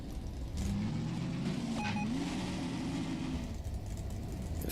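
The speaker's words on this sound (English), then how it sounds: "I like the car sound, much better than the Dune buggy." A car engine in the game Half-Life 2: Downfall hums steadily at a moderate level for several seconds, its pitch rising and falling slightly as it drives, with a short electronic tone partway through.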